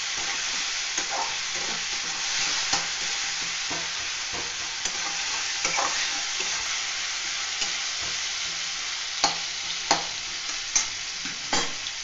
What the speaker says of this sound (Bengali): এইভাবে একটু নাড়াচাড়া করে নিতে হবে, ততক্ষণ না টমেটো পেঁয়াজটা নরম হচ্ছে